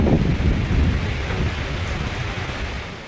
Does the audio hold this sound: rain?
yes